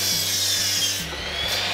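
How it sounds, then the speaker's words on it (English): A saw cuts straight across a wooden support beam for a farmhouse table, giving a steady loud rasping whine that runs without a break, close up and with no voices. "I'm gonna go ahead and just do a straight cut at 69 inches"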